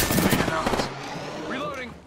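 Rapid gunfire bursts from the video game Apex Legends crackle loudly up close, a quick volley followed by fainter echoing shots and game effects.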